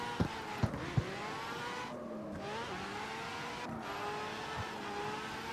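A Mazda RX-7 drifting in CarX Street, its engine droning and wavering through shifting revs as the car slides, with a few sharp knocks near the start and a steady tyre-and-engine wash throughout, close and alone.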